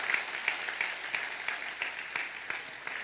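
A church congregation at a midweek service claps in a steady rhythm, roughly three claps a second, at a moderate distance with no talk over it.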